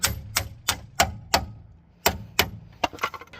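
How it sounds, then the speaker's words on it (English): A hammer taps on a car's lower ball joint in a series of sharp, ringing metal strikes, roughly evenly spaced with a short pause midway, close and clear. "You can take an hammer and tap on it"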